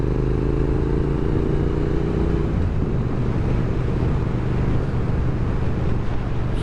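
A 2023 Triumph Speed Twin 1200 motorcycle is being ridden, its steady engine drone rising briefly in pitch then settling under constant wind rush, with no talking.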